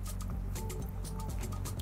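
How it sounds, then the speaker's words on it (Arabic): Water stirred into flour by hand in a kitchen bowl while making a creamy vegetable soup gives soft, wet squishing and sloshing sounds, steady and close, with no talk. "وحطينا هنا ميه على الدقيق عشان نفكه"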